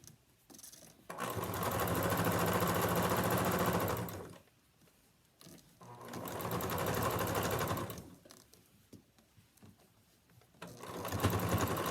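A sewing machine stitches mask fabric and a tie in three long, steady whirring runs. Each run is loud and close, with brief quiet pauses between them.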